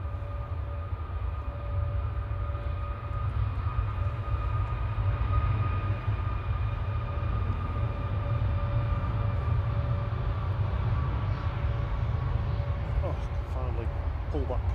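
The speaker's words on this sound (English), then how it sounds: "So right out to Krakow, flight 2141 EIJE on the roll." A distant airliner roars through its takeoff roll at Manchester Airport on a flight to Krakow, a broad steady low rumble with faint engine tones under the sustained noise.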